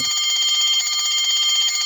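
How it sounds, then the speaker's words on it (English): An electric bell rings continuously, a bright, steady metallic trill that is loud and close. "On pressing the switch, we hear the bell ringing."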